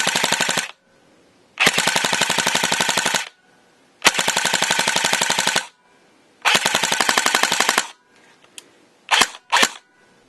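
A Classic Army Tango Down ECR-5 airsoft rifle on a 9.6 volt 1600 mAh battery fires full auto at about 714 rounds per minute, loud and close, in four long rattling bursts followed by two short ones, with silence between them.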